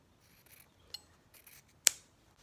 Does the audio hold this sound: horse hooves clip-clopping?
no